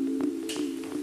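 A drum machine snare retuned to a different pitch, heard as a few quick tonal ticks over a sustained pitched hum, short and close.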